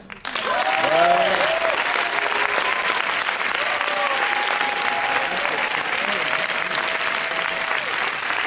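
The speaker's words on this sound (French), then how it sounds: "n'hésitez pas à faire du bruit pour accueillir le réalisateur du film, David Charon." Sustained audience applause from a large crowd at a film premiere at UGC Bercy cinema, steady and loud throughout, with a few faint whoops and voices mixed in.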